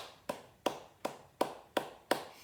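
Hands clap six times in a slow, steady rhythm during a tap dance class, each clap crisp and close, with nothing else heard between them.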